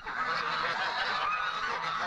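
A dense chorus of geese honking continuously, many overlapping calls, loud and close with no talking.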